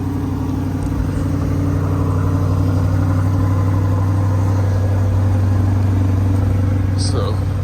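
A Chevrolet C8 Corvette drives at night, its engine a steady, continuous low drone with road rumble filling the cabin, unbroken and even throughout.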